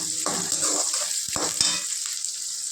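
Garlic and curry leaves fry in hot oil in a pan, giving a steady close sizzle with a few short stirring scrapes and clinks of a utensil against the pan. No one speaks.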